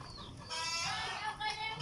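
Chickens cluck and squawk close by in a busy, noisy scene, a few agitated calls rising over the background.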